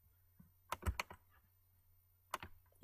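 A few quick keystrokes on a computer keyboard, entering an Alt code on the numpad in Windows, in a short cluster of taps then a lone press, near and fairly quiet.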